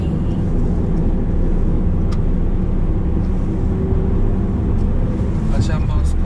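A Mercedes-Benz E43 AMG drives along a winding road, heard as a steady, loud low engine and road rumble from inside the cabin without pause.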